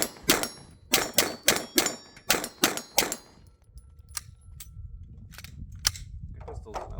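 A Glock 45 pistol fitted with a Rival Arms guide rod fires about eight sharp, loud shots in a quick, fairly even string, followed by more distant, fainter reports from other shooters at the range.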